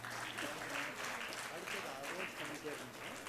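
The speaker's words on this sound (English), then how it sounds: "Big round of applause, please." A steady crowd applause at a moot court competition, many hands clapping together, heard at a moderate distance and sustained throughout.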